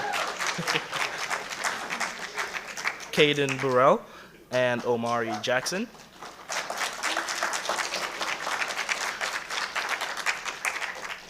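Audience applause at an African Heritage Month proclamation event for the Imani drumming group of Horton High School students, steady clapping from a crowd running under a speaker who names performers midway, with clapping continuing afterward.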